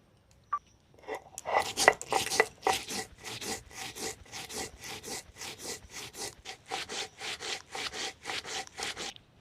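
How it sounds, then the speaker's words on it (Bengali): Two kinds of mustard seed and chili are ground on a grinding stone, giving a rhythmic series of gritty scraping strokes, close and fairly quiet, steady back-and-forth with no talking. "করমচার মধ্যে দুরকম সরষা আর লঙ্কা এটাকে আমি বেটে নেব"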